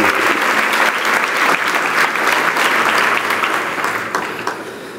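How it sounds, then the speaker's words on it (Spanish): A church congregation applauds warmly, dense sustained clapping from many people filling the room, loud and steady before gradually thinning toward the end. "te damos un buen aplauso"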